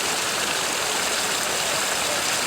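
Water moving in an unfrozen stretch of a garden pond in January, a steady broadband trickle and wash like a small stream, continuous and fairly soft with no talk.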